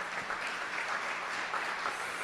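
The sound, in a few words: audience applause and hand clapping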